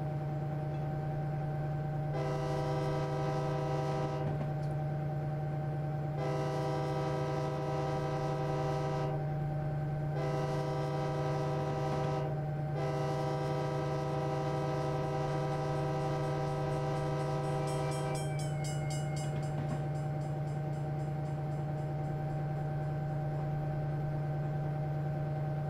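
A locomotive whistle in Train Simulator 2020 sounds a series of sustained, harmonic blasts: two long ones, a short one, then a longer final one. A steady low engine hum runs underneath and no one speaks.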